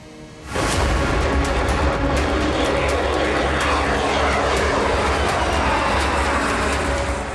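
An F-35 fighter jet gives off a loud, continuous engine roar that swells in abruptly and holds steady for several seconds, broad and rumbling with no speech over it.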